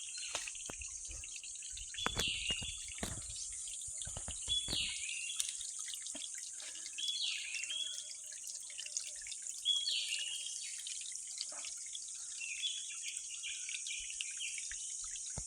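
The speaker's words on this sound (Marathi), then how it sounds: "पाणी वाहतोय आता" Water from a forest spring in the Konkan hills trickles and drips steadily, with a constant insect drone and occasional bird calls in the background and no voices.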